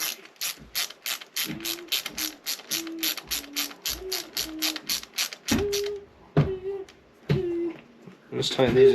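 Rapid ratchet clicks in quick bursts as caps are tightened on an RC Fireteam car, close and crisp, broken by short pauses and light metallic handling sounds.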